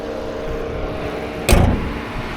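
A single solid thud of a 2018 Opel Astra K door shutting cuts through a steady low hum.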